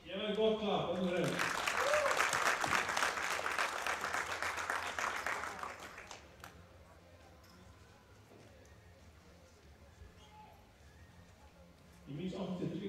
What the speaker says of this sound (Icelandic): Gefið gott klapp, öllum þeim.